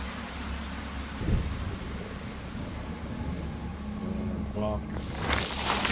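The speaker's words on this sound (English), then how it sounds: "Rainy weather, man." Rainy weather in the PC horror game Darkwood brings a steady wash of rain with low rumbling thunder rising toward the end, heard at moderate loudness under someone talking.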